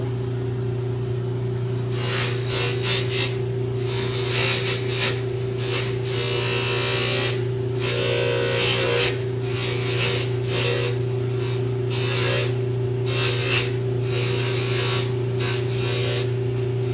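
A metal piece is held against a spinning AAA polishing wheel, giving a steady motor hum with bursts of rasping friction as the metal touches the wheel, loud and close with no talk.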